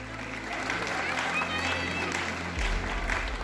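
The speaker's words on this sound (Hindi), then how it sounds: "Give a big round of applause." An audience at an annual day event applauds steadily, a dense wash of clapping that carries on throughout with a low rumble of crowd noise beneath.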